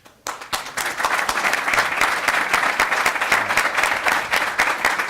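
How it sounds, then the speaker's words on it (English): A conference audience applauds a newly confirmed full professor: dense, steady clapping from a sizeable crowd that starts abruptly and holds evenly loud for about five seconds. "if you would join me in a round of applause"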